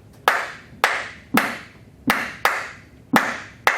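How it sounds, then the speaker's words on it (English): Hands clapping a 5-note clave rhythm, seven crisp close claps in an uneven, syncopated pattern, each with a short room decay. No one speaks. "Or did you want to clap the 5-note clave for me?"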